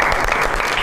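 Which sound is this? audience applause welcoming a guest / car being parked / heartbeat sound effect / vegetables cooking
audience applause welcoming a guest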